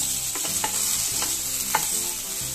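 Sweet potato slices frying in ghee are stirred in a pan, giving a steady sizzle with a few sharp spatula scrapes, close and without talk.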